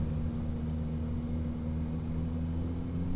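Cessna 208B Grand Caravan turboprop at takeoff power in X-Plane 11, a steady loud drone with strong low tonal hum held evenly throughout, no voices.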